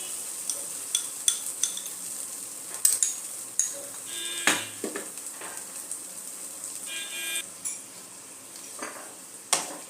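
Sour yogurt stirred into a frying cauliflower roast masala with cashew and melon-seed paste, faint sizzling beneath irregular scraping clinks of a spoon against the pan, close and moderately quiet.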